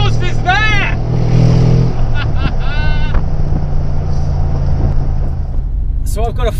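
A Brabus G700 Widestar with side exit exhausts rumbles steadily at a low pitch, loud and close, while voices talk over it and a couple of brief higher-pitched bursts cut through.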